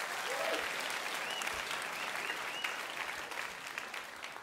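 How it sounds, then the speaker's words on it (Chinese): Sustained applause from a school assembly audience at a Chinese New Year event, a dense steady roar of many hands clapping that fades slightly toward the end, with no talk over it. "Let's give them another big round of applause."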